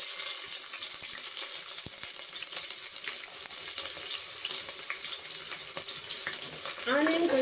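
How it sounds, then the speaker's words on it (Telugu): Onions frying in oil with cloves in a pan, a continuous bright crackling sizzle with scattered pops and light stirring scrapes throughout. "కొంచెం వేగిన తర్వాత, ఫ్రై అయిన తర్వాత ఆనియన్స్ వేసుకుంటున్నా"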